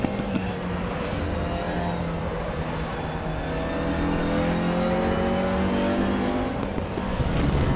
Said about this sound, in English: car doing 250 kilometers an hour